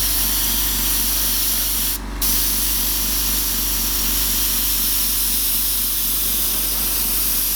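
An airbrush sprays paint in a steady, loud hiss to mist clouds above mountains on an art piece, continuous and close with only a brief dip partway through, no talking.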